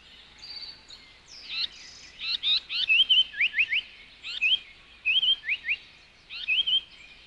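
Summer migratory birds sing in a forest, with repeated clear, high whistled phrases and chirps in bursts over a quiet background.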